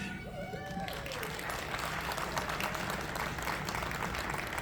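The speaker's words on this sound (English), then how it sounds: "Round of applause." Audience applause at a staff awards ceremony at the Anthro Northwest 2024 convention, sustained dense clapping from a crowd, with a few voices and whoops rising briefly at the start.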